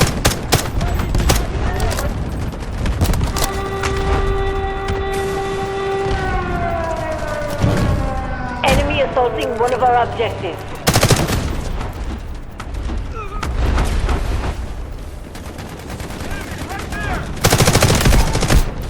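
Rapid bursts of gunfire and loud explosions from the Delta Force Hawk Ops shooter fill a chaotic battle, with a rising and falling siren wail and heavy booms near the end, mixed with excited voices.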